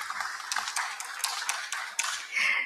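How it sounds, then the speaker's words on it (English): Audience applause fills a conference hall at an international investment conference, a dense, steady clatter of many hands clapping that swells slightly toward the end, with no speech over it. "A big round of applause for him."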